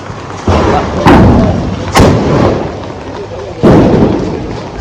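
Diwali firecrackers burst outdoors in a series of loud, close booms and cracks, several sharp blasts each trailing off into rumble, with people talking around them.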